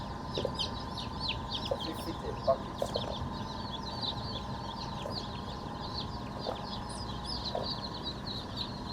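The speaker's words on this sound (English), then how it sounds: "from the hatching tray, we count the chicks as we put them in the boxes where we pack them" Newly hatched chicks are counted from a hatching tray into packing boxes at a poultry hatchery, with dense, continuous high peeping from many birds forming a steady chorus and a few louder individual chirps over a low background hum.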